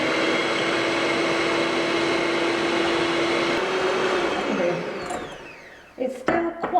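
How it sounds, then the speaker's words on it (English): An electric whisk whirs steadily while whipping two egg whites, a loud continuous motor hum that winds down near the end, followed by a few clatters and knocks. "I'm going to whisk that up"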